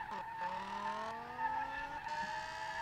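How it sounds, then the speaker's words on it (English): Tires squealing as a BMW M5 E28 with a 507-horsepower V10 power-slides in the racing game SLRR, a steady screech over rising engine whine, continuous and fairly quiet. "it's drifting as well as any BMW M5 drift. It's more of a power slide situation"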